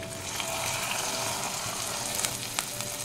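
Chilli chicken sauce with soy sauce bubbling in a pan, a steady dense sizzle and hiss with faint crackles throughout, close and continuous with no voices.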